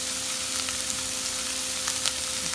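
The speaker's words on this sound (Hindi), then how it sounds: "तो फिर अगेन सॉटी करेंगे" Carrots and capsicum sauté in a pan for veg spring rolls, a close, even sizzling hiss with a faint steady hum behind it and small crackles throughout.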